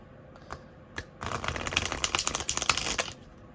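A deck of Book of Shadows tarot cards is riffle-shuffled up close. A quick flurry of soft, rapid papery clicks swells for about two seconds and then stops, with a couple of isolated taps just before.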